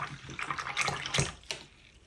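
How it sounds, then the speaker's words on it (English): Paintbrush swished and rinsed in a water container, giving short splashy bursts and drips that rise and fall over about two seconds, close and moderately loud with no talking. "And rinse your brush really well."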